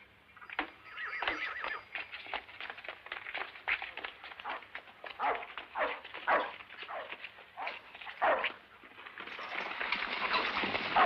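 Dog barking in repeated sharp bursts at close range, mixed with horse-like neighing and clip-clop in a Western setting, with a brief loud burst near the end.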